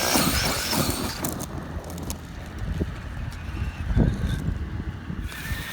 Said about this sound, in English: I enjoy driving the RC just around in the grass too.